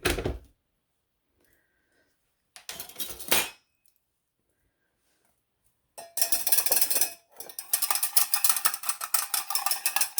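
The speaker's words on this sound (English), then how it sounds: "Just rinse off that spoon right into the cup." A spoon rinsed off into a cup while mixing dye, heard as brief clinks and splashing of water in bursts separated by silence, with a longer stretch of running, trickling water near the end.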